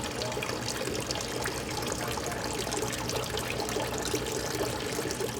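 Water runs from a tap during pizza preparation, a steady faint trickle and splash that continues evenly with no talk over it.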